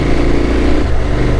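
A 2021 KTM Super Adventure S fitted with an Arrow Sonora exhaust, heard close and loud as a deep, beefy growl of a steady rev below 5,000 RPM, with no voice over it.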